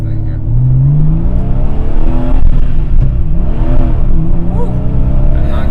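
An air-cooled Porsche 993 Carrera 2S engine revs up and accelerates loudly through several rising pulls, up close, with voices talking over it.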